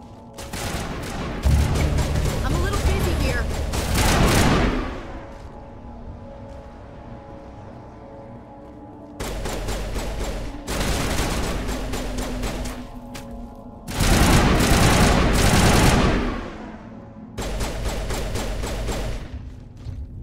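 Bursts of automatic gunfire from a firefight in the video game Mass Effect 1, loud and close, coming in several separate volleys of rapid shots with short pauses between them.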